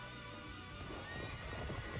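A horse in a video game gives a short neigh over quick clip-clop hoofbeats, close and fairly soft, lasting only a moment with no talk.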